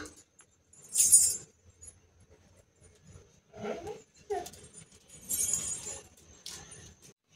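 A dog barks in a few short bursts, fairly close, with metallic jangling and clinking noises between the barks.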